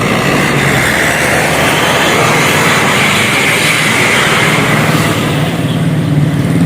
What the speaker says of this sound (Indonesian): Hari ini bus Setia Negara Seroja Lebak Bulus diserap oleh Setia Negara Mahameru melintas di kawasan Jatiseeng di jam 6:10 ya.